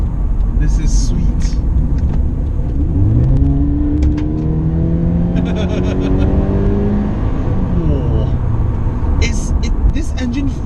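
Toyota 86 engine revving up through the gears while driving, rising and falling engine tones under steady road rumble, with a person talking over it from inside the cabin.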